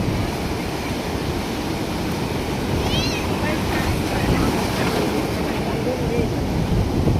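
Incoming tide surges at a river mouth, waves washing in as a continuous loud roar mixed with wind buffeting the microphone, with voices faintly present.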